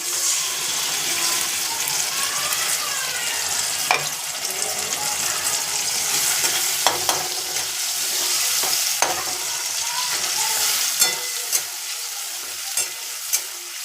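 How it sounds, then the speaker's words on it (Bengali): Ginger, cumin and chili paste masala being sautéed in a pan for Bengali-style sambar, a loud continuous sizzle with repeated stirring and scraping of the spoon, close and without speech. "ভালো করে মশলাটা কষে নেব"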